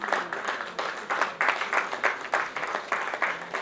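Conference audience giving a round of applause for a panel moderator at a real estate event; moderate clapping with distinct pulsing claps, fairly close, no talk.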